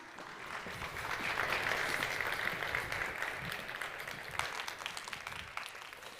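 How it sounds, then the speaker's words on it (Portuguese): Audience applause at a stage presentation during a gastronomy trends event, a sustained wash of many hands clapping that swells and then slowly thins, heard at moderate distance in a large room. "uma salva de palmas para o Luquinha."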